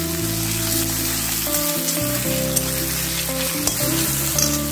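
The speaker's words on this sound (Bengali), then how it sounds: "পেঁয়াজ ভাজতে ভাজতেই লবণটা দিয়ে দিচ্ছি।" Onions sizzle steadily in a hot pan with salt just added, a dense continuous frying crackle with a few brief spoon or pan clinks, close and alone without talk.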